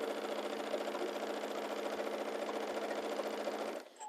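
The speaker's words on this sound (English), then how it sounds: "now we're sewing the pockets together." A sewing machine runs in a fast, steady whir while stitching denim pockets together, close and continuous before stopping abruptly near the end, with no talk.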